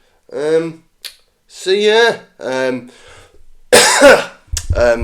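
A few harsh coughs and throat-clearing bursts break up short stretches of voiced sound, close to the microphone.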